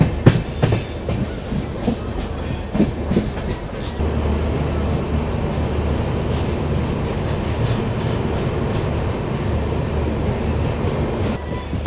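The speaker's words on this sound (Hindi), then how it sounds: "मेरे पीछे खड़ी हुई है शताब्दी एक्सप्रेस" Shatabdi Express passenger train at Rangiya Junction station, loud close rail noise with rhythmic clickety-clack of wheels over joints at first, settling into a steady heavy rumble and metallic squeal, no talking.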